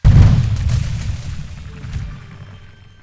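A heavy boom from a cannon in the medieval siege-engineering game Besiege hits at the start, followed by rumbling crackles and a smaller second burst, all decaying into quiet.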